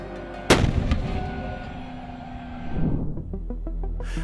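M109 Paladin self-propelled howitzer firing a single loud, close blast that rolls into a long low rumble, followed by lighter rhythmic mechanical clanks.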